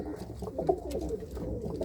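Pigeons in a loft coo softly and repeatedly, low throaty calls over a steady background murmur, fairly close.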